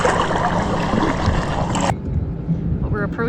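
A boat moving slowly through a no wake zone on Big Cedar Lake, a loud steady wash of water and engine hum that drops away abruptly, leaving gentle lapping and gurgling.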